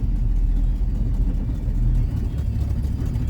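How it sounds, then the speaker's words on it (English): Car engine holding a steady low-RPM roar during a burnout in Mexico, continuous and loud with slight surges in throttle, no talking. "That's how you do burnout, no hot rod."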